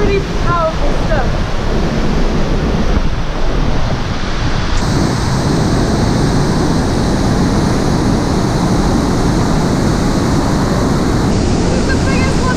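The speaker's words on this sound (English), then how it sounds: "This is the biggest waterfall I've ever seen." Powerful waterfall in Ecuador roaring loud and steady as a dense, broadband wash of falling water, with brief faint voices near the start.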